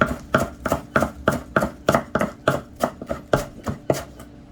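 A knife chops a bunch of fresh cilantro on a cutting board in quick, steady strokes, about a dozen crisp, close knocks in a regular rhythm, with no other sound.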